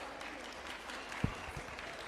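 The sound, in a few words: audience applause at award felicitation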